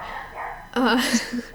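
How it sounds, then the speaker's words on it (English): A pet dog barks indoors in a few sharp, close bursts that come suddenly after a stretch of quieter talk-like sound. "I'm sorry about my annoying dog."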